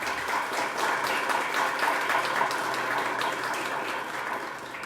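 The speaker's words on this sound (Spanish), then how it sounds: "Les agradezco recibir al profesor Tomás con un aplauso" A crowd claps steadily at a university ceremony, a dense patter of many hands filling the room, holding fairly even before easing slightly at the end.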